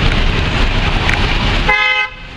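A Mercedes SL43 AMG speeding past on a Hyderabad street, a loud, close rush of engine and traffic noise that drops away abruptly, followed by a brief tonal horn-like sound.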